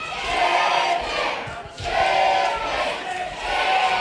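A capacity crowd at a live wrestling show in Witham roars and cheers in loud surging waves, dipping briefly before swelling again, full and close throughout.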